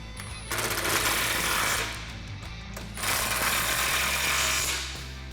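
A power tool driving fasteners as a factory shock is mounted back up on a 2015-2019 Mustang GT, two sustained loud buzzing rattles with a dip in between, close and steady.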